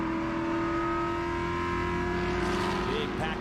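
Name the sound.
race cars accelerating at GridLife Touring Cup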